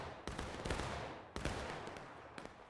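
Muskets crack in an American Civil War video game battle, a few sharp distant shots spaced irregularly over a faint background, with no talk.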